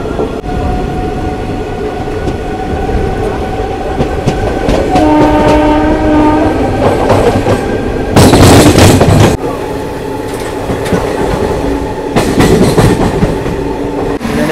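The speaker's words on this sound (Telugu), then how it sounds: "ఇది ఒక just normal intercity express train అంతే." A Pinakini superfast express, an intercity train running between Vijayawada and Chennai, rumbles loudly from close by with rhythmic wheel clatter, and its horn sounds in long sustained blasts partway through while the train roars on.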